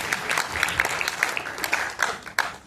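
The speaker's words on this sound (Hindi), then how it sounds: "और इसके साथ जोरदार तालियों से हम स्वागत करेंगे सुंदर कटारिया" Audience applause greets the comedian Sunder Kataria at a comedy poetry event in a convention hall, a steady wash of clapping with a few sharp louder claps standing out, no talk over it.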